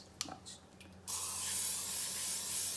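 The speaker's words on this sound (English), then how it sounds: "you should grease up your little measuring cup so that way it doesn't stick" Cooking spray is aimed into a small measuring cup while making pecan pie, a loud, steady aerosol hiss that starts abruptly after a second of quieter kitchen sounds and soft voice, then runs continuously to the end.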